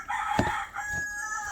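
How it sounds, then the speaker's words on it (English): A rooster crows in the Jamaican countryside, one full call rising and holding for over a second, close and clear against a quiet outdoor background. "And that's Mr. Rooster that I just showed you."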